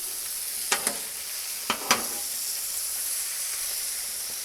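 Chicken fajitas with cheese sizzle on a Blackstone griddle in a steady soft hiss, broken by a few quick scraping stirs of a spatula against the flat-top.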